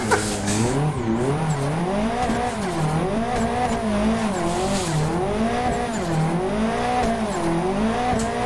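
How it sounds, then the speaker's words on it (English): A race car's turbocharged engine roars steadily inside a sim racing game, its pitch rising and falling with repeated shifts and revs, loud and continuous with faint tire squeal and no speech. "Oh, I can hear all that turbo now."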